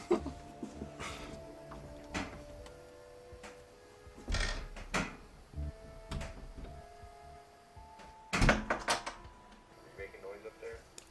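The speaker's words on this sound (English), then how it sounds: "Just opened a door." A door is opened inside a house with a radiator and a closet, giving a few sharp knocks and clunks amid quiet room noise while several people talk nearby.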